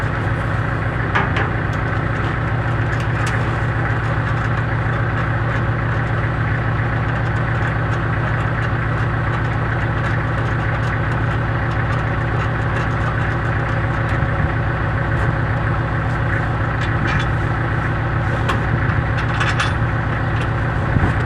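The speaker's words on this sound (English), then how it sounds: "So now I can just start the tractor" Farm tractor engine idling steadily after starting on a winter day, a continuous low rumble close by with no break, heard alone without talk.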